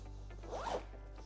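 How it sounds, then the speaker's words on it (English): A zipper on a backpack's front pocket zips closed in one quick, smooth pull, close and fairly quiet against a faint steady hum. "Zips up very nicely."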